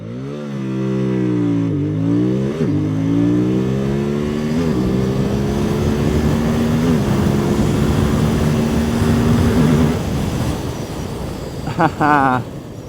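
A QJMotor SRK550s motorcycle accelerates hard from standstill toward 100 km/h, engine roaring loud and close, with the pitch climbing and dropping at each gear shift across several upshifts, then easing off at the end.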